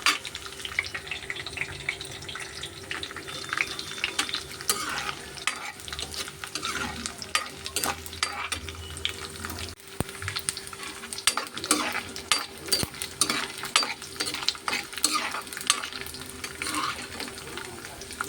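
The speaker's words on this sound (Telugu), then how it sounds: "అందుకని నేను బాగా ఫ్రై చేస్తున్నాను." Beef curry frying in oil, a long, busy run of crackling sizzle mixed with repeated scraping and stirring strokes of a utensil in the pan, close and steady, with no talking.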